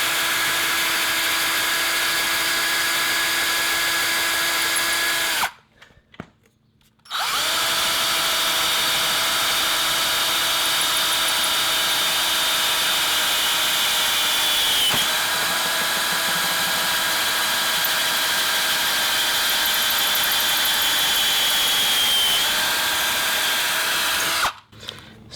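A power drill whines steadily while transfer drilling a hole through EMT conduit, loud and close, with a brief pause near the start and a stop at the end, no speech.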